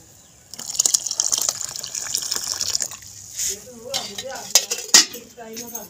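Milk is poured into a pan of kahwa tea and stirred with a spoon, giving a liquid gush, clinks and scrapes against the pot, plus a few sharp clatters. Speech is heard intermittently under the sounds.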